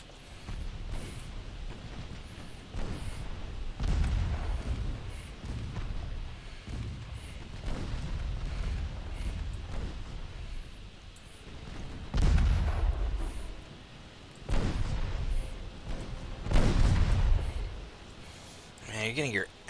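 Heavy naval gun salvos in the warship battle game Ultimate Admiral Dreadnoughts, a series of deep booming blasts and rumbling impacts over about twenty seconds, with someone talking over some of them.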